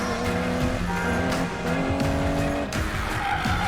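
An Aston Martin DB11 in a racing video game roars steadily while its tires squeal and skid continuously, loud and close, with a brief dip in engine note near the end.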